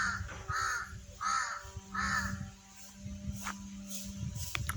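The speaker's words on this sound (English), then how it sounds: "It's a jungle crow." A jungle crow caws repeatedly at a forest rest house entrance in Mount Harriet (Manipur Parvat) National Park, Port Blair, with four or five harsh, evenly spaced calls over a steady low hum and light ambient noise.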